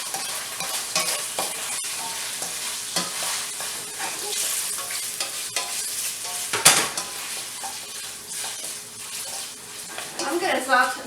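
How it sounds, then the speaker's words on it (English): Zucchini sautéing in a pan for a smoked sausage and macaroni casserole gives a steady, close sizzle with repeated stirring scrapes and a sharp clank midway. "And I'm going to saute it a little bit."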